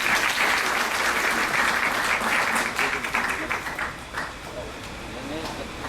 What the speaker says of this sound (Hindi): हमारी स्टेट के कन्वीनर हैं नजीर मीर साहब, उनसे भी गुजारिश करूंगा तालियों से स्वागत करें।